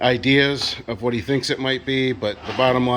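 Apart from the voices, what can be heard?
No everyday noises stand out.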